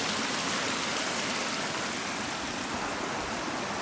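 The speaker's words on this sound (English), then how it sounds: "And there's the creek running all the way down." A mountain creek rushes steadily downhill, producing a dense, continuous broadband wash of flowing water, near and even throughout with no breaks.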